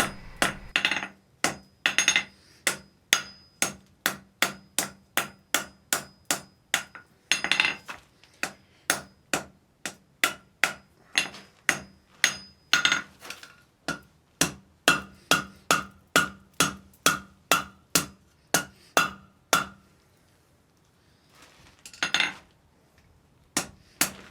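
A hammer forges a scarf on half-inch round steel bar, sharp ringing blows in fast, regular runs of strikes broken by short pauses, loud and close with no talk.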